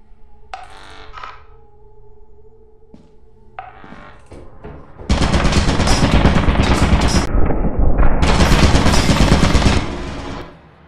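Video game gunfire starts with a few scattered shots and tones, then erupts into loud, sustained rapid-fire automatic bursts that run for several seconds before cutting off.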